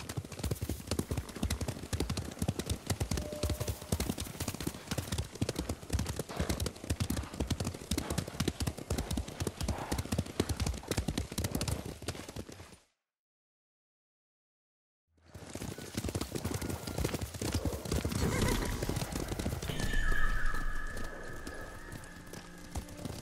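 Horse hooves pound in a steady galloping clip-clop while riding in Ghost of Tsushima, loud and continuous, cut by a brief silence before the hoofbeats resume with other game sounds layered on top.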